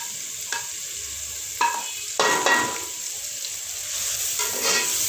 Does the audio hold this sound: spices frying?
yes